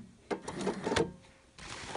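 A domestic sewing machine stitches a shirt collar with a short whirring run, a brief pause, then a second run after the work is turned, heard close with no speech.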